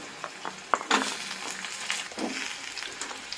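Green chillies, onions and garlic fry in a pan for bitter gourd curry, giving a steady close sizzle broken by a few sharp crackles and stirring scrapes, with no voices.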